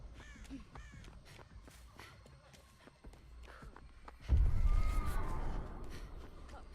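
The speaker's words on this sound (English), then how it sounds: "Or is that the crow? They sent birds." A crow caws in the horror game Dead by Daylight, with a few harsh calls over faint ambient game sounds and footsteps, followed by a louder rumbling burst near the end.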